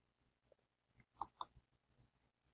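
A mouse click publishing a Google Sites website: a few quiet, crisp clicks, two sharper ones close together near the middle, heard alone without talk.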